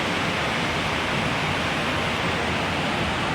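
Golden waterfall roaring as a dense, steady rush of falling water, loud and constant throughout with no voices.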